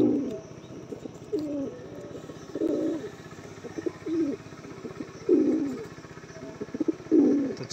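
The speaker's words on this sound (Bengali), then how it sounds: "দেখেন পায়রা দুটো খুবই অ্যাগ্রেসিভ দেখতে পাচ্ছেন" A male-female pair of aggressive pigeons coos in repeated throaty bursts, close and clear, with brief pauses between calls and no talking.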